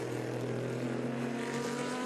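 A Ford Coyote V8 race car engine, enlarged from 5 liters to 5.4 liters, thunders during a 24-hour endurance race, a steady, loud, droning roar with a strong low hum, held without a break.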